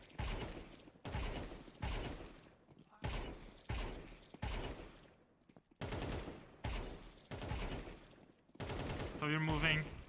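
Repeated bursts of automatic gunfire in a shooter video game while the player strafes, sharp clustered volleys in a steady rhythm, fairly close, with a short tonal game sound near the end.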